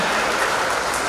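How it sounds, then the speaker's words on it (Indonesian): An audience claps through a brief, dense burst of steady applause at a talk held for a provincial revenue agency in East Java. "Tepuk tangan."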